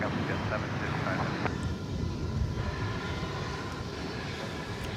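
An 18-year-old airliner on flight 755 to Chicago takes off at DFW Airport. Its jet engines make a loud, steady, broadband roar, and a voice talks over it.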